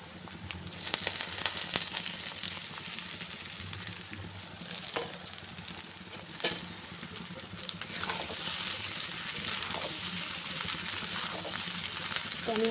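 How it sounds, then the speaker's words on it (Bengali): Soaked flattened rice goes into a pan of fried onions and is stirred, giving a continuous soft sizzle with occasional scrapes that grow louder later on. "তো এর ভিতরে এখন আমি চিড়েগুলো অ্যাড করে দেবো, যেগুলো আমি ভিজিয়ে রেখেছিলাম"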